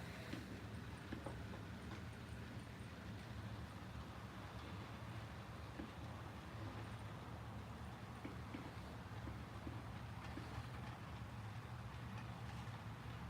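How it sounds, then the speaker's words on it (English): Steady, continuous rumble of three small model trains running on track, a constant low mechanical hum with faint clicking throughout, no talking. "I should know running 3 trains is a bad idea."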